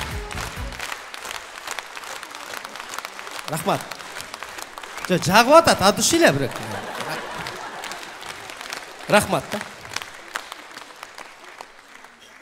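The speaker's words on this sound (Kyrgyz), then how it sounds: "Өтө кол чаба берсеңер адашып кетем мен" A concert audience breaks into bursts of applause and some laughter, with the loudest clapping in the middle and a shorter burst later, while a performer talks between them.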